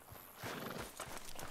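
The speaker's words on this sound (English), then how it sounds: "We'll need to go on a horse." A horse in Red Dead Redemption 2 clip-clops along with a faint whinny, quick hoof beats in a short, quiet burst with no talk.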